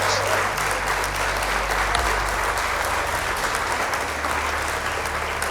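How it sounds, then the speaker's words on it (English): Audience applause, a steady dense wash of many hands clapping that holds at an even level for over five seconds, with a low hum in the background and no speech over it. "I appreciate the tentative applause."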